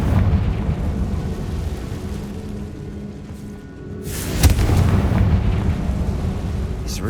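A Confringo blasting spell goes off in Hogwarts Legacy, a single booming burst near the midpoint that rises out of a steady rumbling ambience and trails off into low noise.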